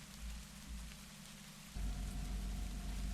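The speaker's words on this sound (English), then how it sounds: "Man, listen to that rain out there." Rain pours down outside in a steady, hissing wash, growing noticeably heavier partway through, with a low rumble underneath and no voices.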